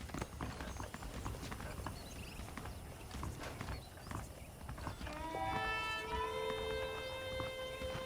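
Saddled horses' hooves clop steadily in the Western video game Red Dead Redemption, a soft rhythmic clip-clop under faint ambient background, with a brief whinny-like tonal call near the end.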